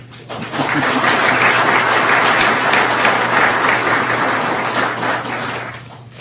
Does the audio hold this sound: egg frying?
no